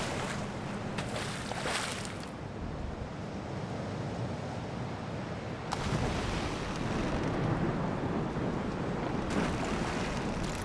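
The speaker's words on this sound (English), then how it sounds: "Wow, the sea is super rough right now." Rough, churning sea surf from the video game Salt 2: Shores of Gold, a steady loud wash of waves and wind noise that swells in bursts, with a boat-like creak of water underneath throughout.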